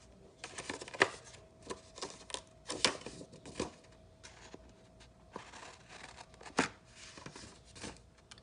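Paper box base being cut at the marks, a series of faint, crisp snips and light tapping scattered irregularly, quiet and close.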